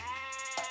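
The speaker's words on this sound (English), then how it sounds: "Soon an old goat came home from the forest." A single short goat bleat, a wavering nasal cry standing alone and fairly close, heard as part of a narrated fairy tale.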